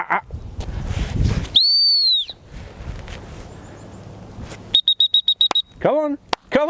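A gun dog trainer sounds sharp whistle blasts for a retriever named Bella: one long steady blast, then a quick run of short pips and a few rising chirps, loud and close over outdoor rustle and some talking.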